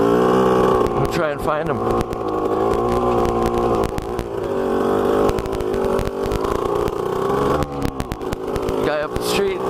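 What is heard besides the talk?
four-wheeler or two-stroke off-road engine passing nearby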